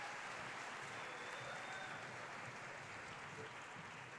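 An audience applauds a high school theater company at an education awards ceremony, sustained dense clapping heard from a distance, steady and even throughout with no voices over it.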